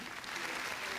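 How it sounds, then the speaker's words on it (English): Applause from a conference audience for the speakers at an Islamic economics and finance conference, a brief wash of dense clapping at moderate level. "Maybe we can give applause for all the speakers."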